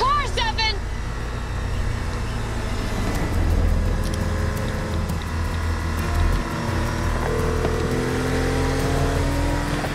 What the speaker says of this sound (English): Stop the car, Stefan!